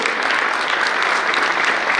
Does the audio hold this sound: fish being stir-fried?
no